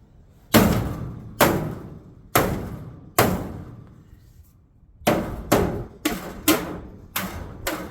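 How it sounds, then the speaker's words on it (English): A hammer smacking a dent in the body of a Deuce and a half truck, about eleven sharp metallic blows in two uneven series, loud and close with no talk. "minus smacking it with a hammer."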